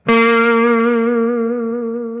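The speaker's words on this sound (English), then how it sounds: "You're bending up and down towards the floor, but the pitch is going up and down." A single sustained electric guitar note through distortion and effects, held for about two seconds with a steady wavering pitch from vibrato, loud and alone.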